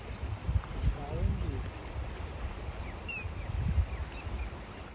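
River water flows steadily in full spate close by, a continuous broadband wash with people talking and birds chirping faintly over it.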